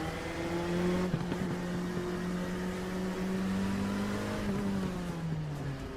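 An LMP2 prototype race car in iRacing drones steadily at high revs, its tone rising and falling gently through gear and throttle changes, with a sharp bump near the start and no voices.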